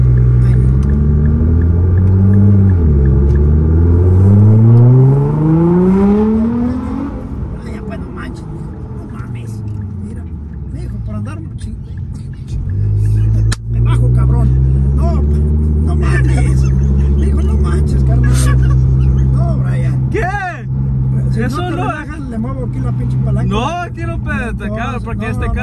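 A Nissan GT-R engine rumbles loudly at low speed, its deep note rising and falling through slow revs, with people talking over it.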